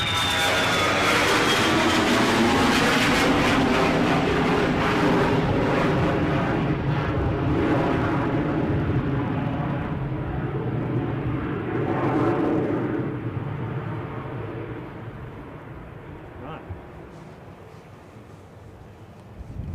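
ATR turboprop airliner inbound from Belfast going to full thrust at Edinburgh airport in gusty wind, a loud sustained engine roar and whine that swells and then fades as the aircraft moves away.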